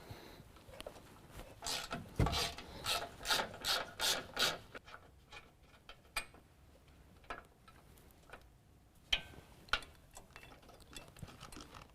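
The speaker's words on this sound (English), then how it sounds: "there's also going to be a 13mm bolt that is holding our brake line bracket to our frame. We're going to remove that bolt as well." A 13mm bolt being removed from a brake line bracket on the frame of a 2017 Ford F-250 Super Duty. Quiet ratcheting and rubbing clicks come in a rhythmic burst, followed by sparse faint metallic taps and scrapes.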